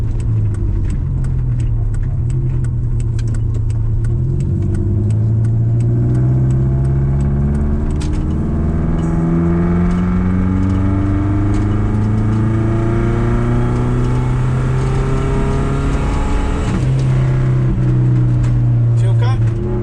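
A twin-turbo Subaru engine pulls hard in second gear, loud and close, its tone climbing steadily through the revs before dropping at a shift, then rising again.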